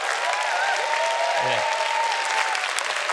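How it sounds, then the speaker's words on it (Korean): Dense, steady audience applause from a lecture crowd fills the clip, with a brief spoken word over it. "박수 한번 치셔야 돼요"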